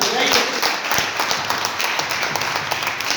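An audience claps in a dense, steady wash of applause, loud and continuous throughout, with voices faintly mixed in.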